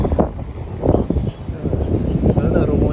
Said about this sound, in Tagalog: Mahangin lang, ayan.